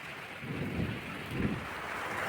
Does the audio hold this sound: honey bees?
no